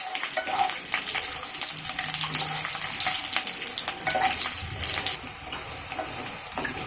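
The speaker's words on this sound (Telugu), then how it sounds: "ఇప్పుడు ఇందులోని స్టవ్ మీడియంలో పెట్టుకుని ఇవన్నీ వేయించుకోవాలండి" Chana dal and garlic cloves sizzle steadily in oil on a stovetop over medium heat, with occasional stirring scrapes and clinks of a utensil against the pan, for a bitter gourd curry.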